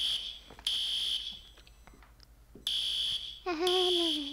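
A fire alarm blares inside a school computer room in the video game Teardown, sounding as loud, piercing electronic beeps in repeated bursts with short gaps between them, followed by a rising whistling tone near the end.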